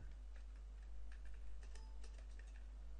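Someone types PHP code on a computer keyboard, a quiet, close run of quick irregular key clicks over a low steady hum, with no talking.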